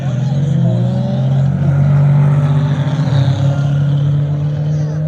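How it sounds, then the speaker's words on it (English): Drag race car at a street legal dragway purging nitrous, a loud engine drone and hiss at close range, sustained across the whole stretch with shifting pitch and a busy outdoor background. "I hear somebody popping some nitrous."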